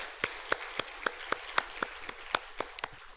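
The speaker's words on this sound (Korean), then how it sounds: "우리 주님께 영광의 박수 올려드리겠습니다" A church congregation at a Friday evening service applauds in a slow, evenly spaced rhythm, about a dozen sharp unison claps ringing out over roughly three seconds, with no talk over them.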